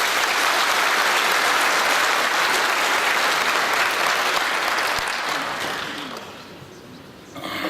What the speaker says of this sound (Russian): Я бы хотел здесь, чтобы звучали аплодисменты.